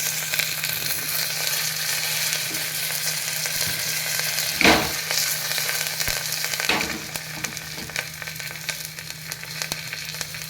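A hot-oil tempering of asafoetida, curry leaves, small onions and turmeric for pumpkin rasam crackles and sizzles steadily, with a sudden louder burst and a second flare a couple of seconds later over a low background hum.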